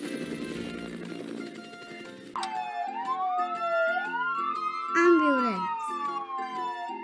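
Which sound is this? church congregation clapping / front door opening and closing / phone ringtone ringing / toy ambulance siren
toy ambulance siren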